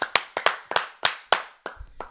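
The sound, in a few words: people clapping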